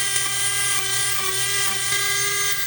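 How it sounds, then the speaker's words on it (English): A power grinder shaping the wood of a walking stick, giving a steady, loud, high whine with a buzzing edge that holds unbroken from start to finish. "Now we'll grind it"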